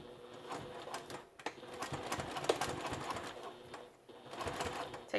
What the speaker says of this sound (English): I've got my presser foot lined up with the edge of the binding here, the raw edge. And I'm going to begin sewing.